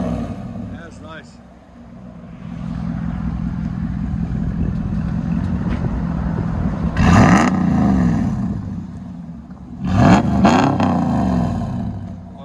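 Revving exhaust from a RAM 1500 pickup with a 5.7L HEMI V8, fitted with either a Borla ATAK system or a straight pipe, rumbling steadily outdoors with two sharp loud rev bursts near the end while people talk over it.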